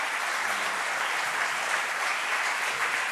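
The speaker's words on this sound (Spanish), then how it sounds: "Un aplauso para él" An auditorium audience claps for a speaker after a lecture on the Spanish conquest of America, a thick continuous wash of many hands at even loudness throughout with no talking.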